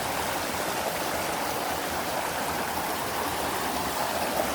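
A clear river in Hong Kong flows over rocks in a steady, close, full rushing wash that holds unchanged, with no voices.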